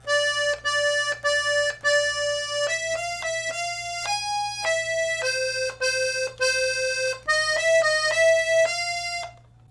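A 32 bass accordion plays a melody of reedy sustained notes with steady bass tones underneath, a mix of short repeated notes and longer held tones, close and fairly loud.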